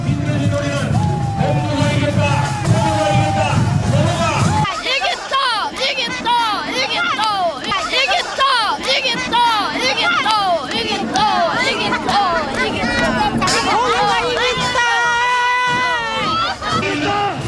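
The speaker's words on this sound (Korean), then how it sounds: "승리의 함성과 기쁨의 몸짓이 놀이마당 곳곳에서 퍼져나왔다." Crowd cheering and shouting in victory at a wooden bull-pushing folk festival in Yeongsan, a loud mass of overlapping voices and whoops filling the open playground, with some voices standing out nearby.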